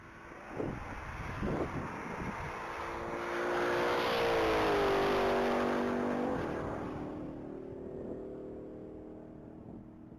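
A white 2018 Dodge Charger SRT Hellcat roars past at speed during a Texas Mile top-speed run. The engine note climbs as the car closes in, peaks loud, then falls away into the distance, with wind noise on the microphone.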